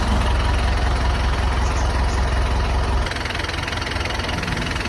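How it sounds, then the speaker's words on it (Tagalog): An Isuzu Elf truck's 4BE1 inline diesel engine idles steadily and loudly up close, a constant low rumble that drops slightly in level partway through. "Amo na gali makina mga boss, 4BE1 inline."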